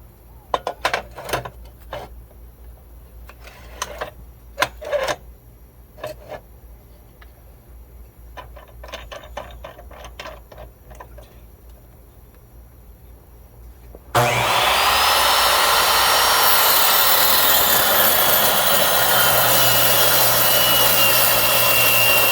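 A chop saw bites into a 1.5 or 2 inch steel angle iron, a sudden loud continuous shrieking grind that follows several scattered clanks and taps of setting up.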